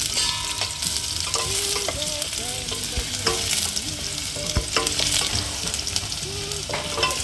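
Onion fries and sizzles in a pan, a loud, constant crackle broken by the clinks and scrapes of a utensil stirring it.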